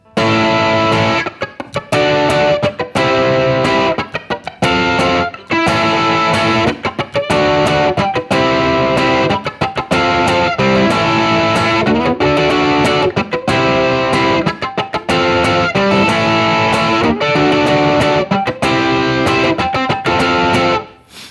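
A ukulele is strummed hard through a distortion effect, with choked dead-note chops breaking up a loud, steady rock rhythm that plays alone throughout.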